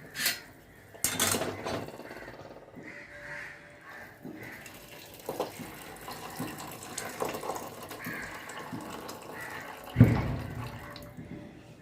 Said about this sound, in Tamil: இப்போ நம்ம இந்த தண்ணியை மாத்திரம் வடிச்சிட்டு